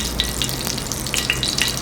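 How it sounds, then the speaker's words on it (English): Mustard seeds crackle and pop in a teaspoon of hot clarified butter (ghee) in a pan, giving a steady frying sizzle with scattered sharp little pops throughout. "Some mustard seeds to crackle."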